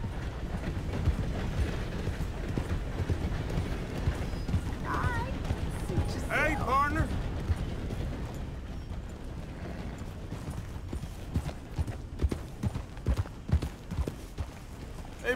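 A horse gallops in Red Dead Redemption 2, its rhythmic hoofbeats pounding steadily up close under in-game character dialogue and ambient sound.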